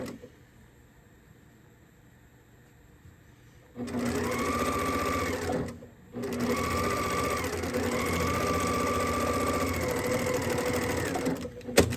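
A sewing machine stitches the end of a zippered fabric bag with batting, running steadily in two long bursts separated by a brief pause, loud and close with no talk.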